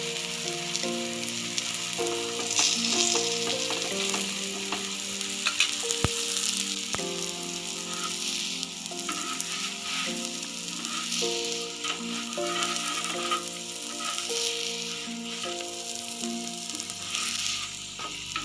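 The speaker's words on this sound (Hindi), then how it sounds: "ये दूसरा पराठा हमने तवे पे डाल दिया। अब इसे हम पलट देंगे। इस पे भी घी लगाएंगे।" A keema paratha frying in ghee on a tawa, giving a steady close sizzle throughout, with a couple of sharp taps and soft music playing underneath.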